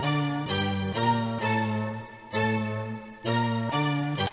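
A sampled melody doubled by a second instrument an octave lower, with short phrases of sustained pitched tones separated by brief gaps, airy and moderately quiet with no voices.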